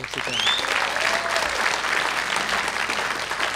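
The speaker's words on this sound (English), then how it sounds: "let's give him another round of applause" An audience at a Martin Luther King Jr. celebration applauds warmly, steady dense clapping from a sizable crowd throughout, with a faint whistle near the start.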